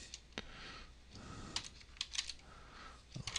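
Typing on a computer keyboard, scattered close key clicks in small clusters, fairly faint, with no talk.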